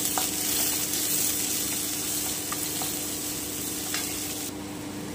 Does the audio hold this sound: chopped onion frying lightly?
yes